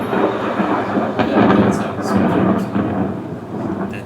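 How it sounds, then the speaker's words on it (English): Thunderstorm rumbling plays as background ambience in a Fable-themed Dungeons & Dragons campaign, a low, rolling roar that swells and fades with a few sharper crackles, loud and continuous without talk. "that sounds like a thunderstorm."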